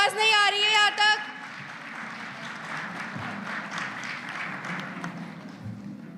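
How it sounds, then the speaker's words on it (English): An audience at a corporate quality circle and kaizen competition applauds after a team is introduced, a soft, fairly distant spread of clapping that follows a short burst of a voice over loudspeakers. "Please give a huge round of applause for Team Smart."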